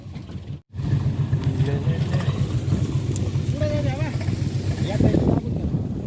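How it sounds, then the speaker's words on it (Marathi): A steady, low engine rumble runs through the whole stretch as a tractor carrying green maize fodder chaff draws near on a farm, with voices talking over it. "हिरव्या मक्काची कुट्टी वाला ट्रॅक्टर येतो"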